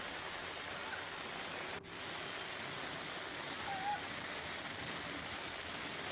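Heavy rain pours down steadily in Rajkot, a dense, even hiss of falling water broken by a brief dip partway through.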